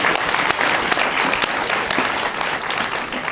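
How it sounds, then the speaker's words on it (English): A live audience at a 2016 Gastropod show breaks into loud, dense applause, a sustained wash of clapping that fills the room for a few seconds with no talk over it. "go ahead, applaud that, go on, do it"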